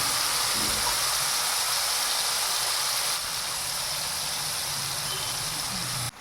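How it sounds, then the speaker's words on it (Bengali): Chili, onion and garlic paste hits a hot pan for a shrimp dish, giving a loud, close, continuous sizzling hiss that holds steady throughout before cutting off abruptly at the very end. "এই লঙ্কা পেঁয়াজ আর রসুনের পেস্টটা আমি দিয়ে দিই"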